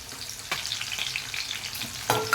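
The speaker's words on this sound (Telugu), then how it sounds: "వేగుతుంది చూడండి కర్రీ" A curry of onions and green chillies fries in a pan, giving a close, even sizzle with crackly spitting and two sharp scraping stirs near the middle and end, with no voices.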